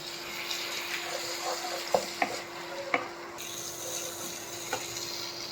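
Spice masala fries and gets stirred in a pan while making a yogurt-based dish, giving a soft, steady sizzle with a few sharp scraping clicks of the spoon. The sound is fairly quiet and there is no talking.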